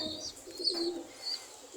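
Pigeons in a loft give soft, throaty coos that repeat at close range over a short stretch, with faint chirpy bird sounds mixed in.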